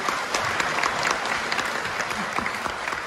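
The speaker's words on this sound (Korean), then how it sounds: "신랑 신부 내빈 여러분께 바라봐 주시고 내빈 여러분께 인사 큰 박수 부탁드리겠습니다." Guests at a Korean wedding ceremony burst into a dense, steady round of applause after the bride and groom bow, continuous crowd clapping filling the hall from start to finish.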